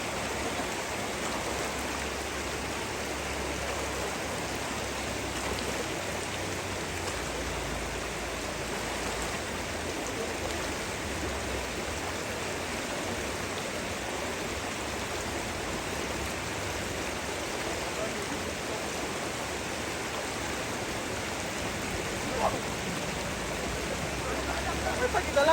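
Steady rain and rushing floodwater on a farm during a typhoon, a dense continuous hiss that holds even and loud from start to finish, with faint voices barely audible beneath it.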